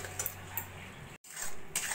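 Quiet scraping and metallic taps of a spoon stirring jaggery in a pan for churma ladoo, a few brief strokes separated by a short gap, with no speech.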